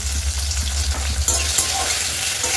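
Chopped tomato and turmeric fry in a pan, a loud, close, continuous sizzle with a sharper burst of crackling partway through and brief stirring scrapes.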